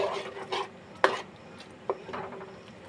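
A spoon scrapes and clinks gently in a pan while whisked yogurt is stirred for an Afghani-style egg curry. A couple of louder taps stand out against a soft, steady stirring sound, with no talk.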